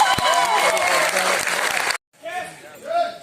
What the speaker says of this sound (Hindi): तो बुलंद सर के लिए एक जोरदार तालियां